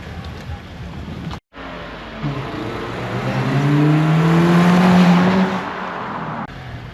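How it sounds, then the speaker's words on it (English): Modified Toyota GT86 taken for a short test spin, engine note rising and swelling as it pulls away and accelerates, then easing off, heard fairly close with no talk. "Take it for a little spin, see how they settle."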